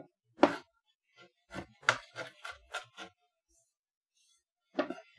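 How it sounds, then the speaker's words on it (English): A knife chops garlic on a cutting board in a quick burst of sharp taps, then pauses before a final couple of chops; close and fairly quiet. "I love the way garlic smells when you chop it."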